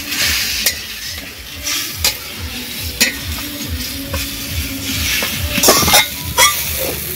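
A spatula stirs a sizzling mixture of water from washed sesame seeds in a hot frying pan, the scraping strokes coming in a steady rhythm over a constant fry hiss, close and fairly loud, with no voices.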